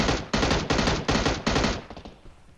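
Rapid automatic gunfire during a close gunfight in PUBG Mobile, loud repeated bursts in quick succession that fade into scattered shots at the end.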